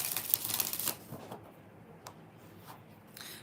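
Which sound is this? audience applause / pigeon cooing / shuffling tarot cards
shuffling tarot cards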